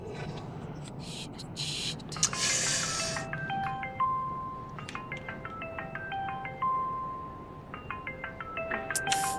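A melodic electronic phone ringtone plays repeated stepping note patterns over a low background hum, with a brief noisy burst early on.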